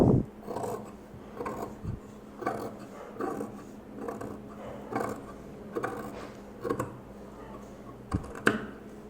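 Scissors cut through churidar fabric in short, repeated snips and rasping strokes, quiet and close, falling in an uneven rhythm with brief pauses between cuts.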